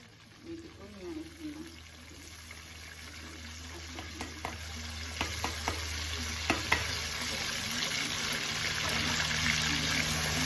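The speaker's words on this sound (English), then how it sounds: "my cured fish or momone or salted fish. I'll drop that in the oil." Cured salted fish and onions fry in hot oil, a steady sizzle that builds louder over time, with scattered stirring clicks and knocks and a voice speaking at the start.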